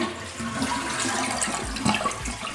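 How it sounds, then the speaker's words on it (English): A toilet in a 1983 Florida home bathroom being renovated flushes with a loud continuous rush and gurgle of water, heard close and filling the whole stretch. "Should we flush it again?"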